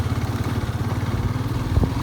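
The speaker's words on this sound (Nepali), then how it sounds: "धुलोमा सरर जाने हो बाइकमा हरर" A motorcycle engine running on a dusty road, close and steady, its rapid rhythmic low thrumming pulsing evenly for the whole two seconds with no voices.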